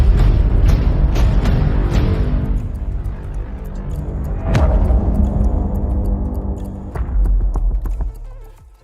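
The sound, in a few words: song playing from KW13 Max smartwatch speaker at full volume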